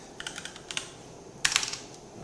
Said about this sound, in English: This is a new keyboard. It's making a lot of clacky sounds.